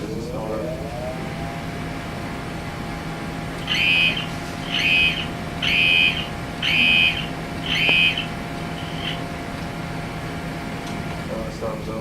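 A buzzer on a student-built electrical storm simulation project sounds five distinct timed beeps, evenly spaced about a second apart, over a steady machine hum and background noise.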